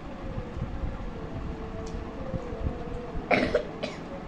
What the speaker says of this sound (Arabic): انا اللي بكح.